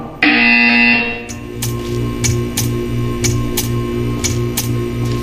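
A sustained electronic buzzer tone from the video game Portal 2 sounds for about a second, followed by a steady mechanical ticking and clicking rhythm with a low hum underneath.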